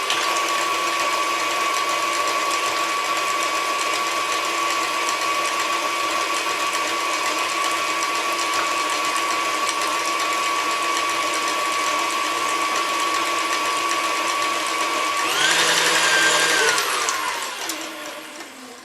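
Electric mixer with a whisk attachment beating banana bread batter, a steady loud whir held for about fifteen seconds, then a brief rougher burst before it winds down.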